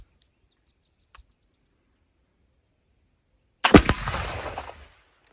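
A bamboo black powder gun fires once: a single loud, sharp report after several seconds of near silence, followed by a roughly one-second rumbling decay.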